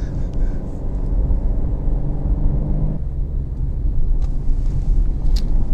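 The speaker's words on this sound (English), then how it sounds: "We're just gonna keep on driving until I run out of gas." Steady low engine and road rumble from inside a car cruising on a residential road with the fuel gauge at zero miles to empty, with a gear or speed change midway and a few faint clicks.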